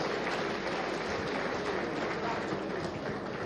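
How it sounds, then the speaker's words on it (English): Applause from an audience filling a conference hall at a national summit of opposition political party leaders in Oyo, a steady dense wash of clapping that runs loud and unbroken throughout. "give yourself a round of applause"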